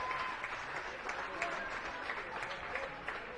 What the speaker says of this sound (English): the crowd comes up with a round of applause